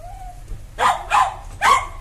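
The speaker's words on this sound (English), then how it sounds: "as soon as I play a note, he starts barking" A poodle barks three times in a clear, evenly spaced series, close and loud, following a brief faint tone.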